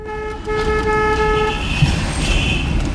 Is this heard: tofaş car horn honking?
yes